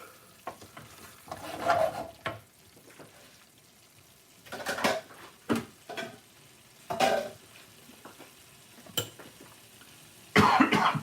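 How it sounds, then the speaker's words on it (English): Stirring fresh coriander through a sizzling vindaloo curry in a pan, with intermittent scraping strokes and bursts of frying sizzle, close and moderately loud. "Fresh coriander, mix that through."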